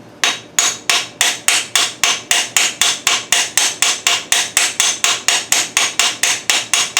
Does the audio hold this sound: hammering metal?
yes